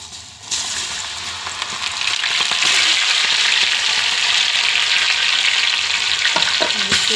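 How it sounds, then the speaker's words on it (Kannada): Boiled corn kernels dropped into hot oil for crispy corn, bursting into a loud, continuous sizzle and crackle that starts abruptly and stays close and steady, with popping spatters near the end and no talk. "ಇವಾಗ ಇದರಲ್ಲಿ ನಾವು ಒಂದು ಸ್ವಲ್ಪನೇ ಹಾಕ್ಕೊಂಡು ಕರ್ಕೊಳ್ಳೋಣ."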